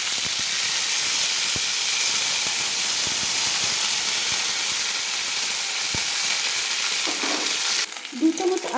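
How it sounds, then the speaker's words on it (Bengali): Ground ginger paste sizzles in a hot pan as a spatula stirs it, giving a steady hissing fry with soft regular scraping taps, near and alone, and some clatter near the end. "আদা দিয়ে আমি নেড়ে নিচ্ছি একটু খুন্তি দিয়ে।"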